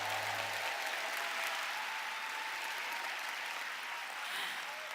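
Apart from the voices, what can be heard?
audience applause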